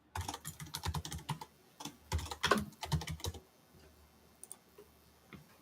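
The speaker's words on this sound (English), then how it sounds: "type in the password" A password being typed on a computer keyboard: a dense burst of fast keystrokes for about three seconds, then a few scattered taps fading into quiet room noise, heard close.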